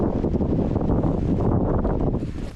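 Relentless winter wind in the mountains buffets the microphone with a loud, continuous roar. It rustles and gusts without a break and eases slightly near the end.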